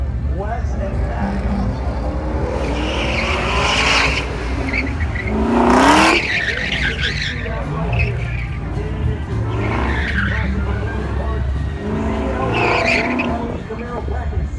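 A 600-horsepower supercharged V8 Camaro tears through an autocross run at a Del Mar car show, with loud repeated tire squeals and skids and engine revving throughout, while a commentator talks over it.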